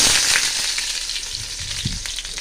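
Onion and dried fish (shutki) fry together in a pan, a loud, steady, close hiss of frying with a few faint low stirring bumps and no speech.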